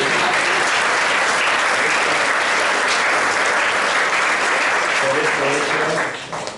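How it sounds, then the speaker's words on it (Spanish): Loud, dense audience applause fills the room at a science talk on radioactivity, a steady wash of many hands clapping that holds evenly throughout and begins to fade only in the last second. "yo creo que Pierre Curie se merece un aplauso, ¿no"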